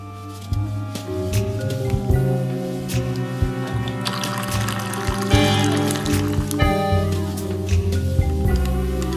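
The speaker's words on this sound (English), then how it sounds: "you just kind of press this button and then this button, and water just kind of pours out this spout here" Water streams steadily from a hot water dispenser into a cup, a continuous filling sound over a low mechanical hum, nearby.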